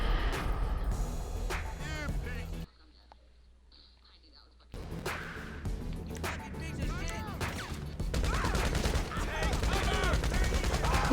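Dense gunfire from enemies in Friday the 13th or GTA Online, sustained bursts and shots, loud and continuous with a brief quiet gap partway through, voices and game chatter mixed in.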